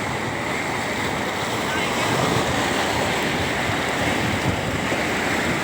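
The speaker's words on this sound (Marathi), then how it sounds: "पाण्याचा आवाज आहे" The flooded Kanhola river at Pothare rushes fast and steady, a dense, continuous roar of water that holds evenly from start to finish, with no voices over it.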